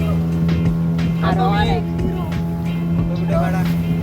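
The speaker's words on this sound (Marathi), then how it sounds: "आमची बोट राईड चालू झालेली आहे." Motorboat engine droning steadily during a boat ride on a rough sea off the coast, a constant low hum running under several people chatting throughout.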